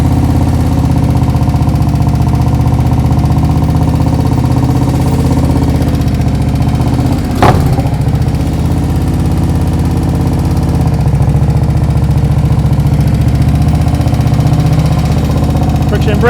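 Motorcycle engine running steadily during slow-speed riding practice in California, a constant mid-pitched drone with a brief clunk midway, mostly masked by a speaking voice throughout.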